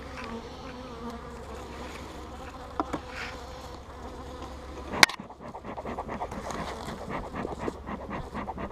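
Honeybees from a fairly aggressive hive buzz continuously around the open box during a spring inspection, a close, steady drone with a sharp knock partway through and no talk.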